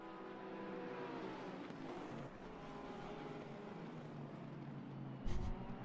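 A line of GT race cars in Assetto Corsa Competizione streams through the middle section toward the esses at Kyalami, giving a steady blended engine drone that is faint and continuous, with a brief louder burst near the end.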